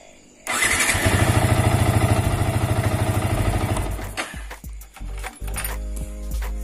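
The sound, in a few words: motorcycle engine starting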